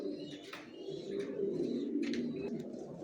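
A male racer pigeon cooing softly at close range, repeated low throaty coos in a quiet setting.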